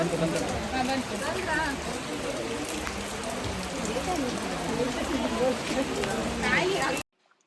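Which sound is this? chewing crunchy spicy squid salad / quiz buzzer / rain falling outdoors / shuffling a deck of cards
rain falling outdoors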